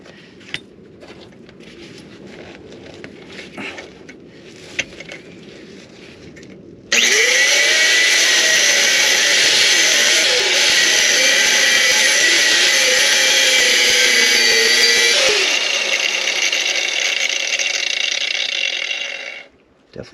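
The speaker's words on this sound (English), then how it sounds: "I'm gonna cut here of this bolt, and that should be able to pop it off" A power tool cuts through a bolt on the trailing arm of a 1990 Land Rover, a loud sustained whining grind with shifting pitch for about eight seconds, preceded by quieter workshop noise and followed by a fading hum.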